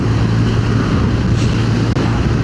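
Steady, loud wind buffeting the microphone with a deep low rumble throughout, no voices.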